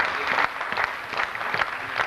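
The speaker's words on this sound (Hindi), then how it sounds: "चाचा अब्बास के लिए एक दफा फिर तालियां।" Applause from the audience at a farewell party for Chacha Abbas, a dense burst of clapping filling the room, sustained and fairly loud with a faint crowd murmur.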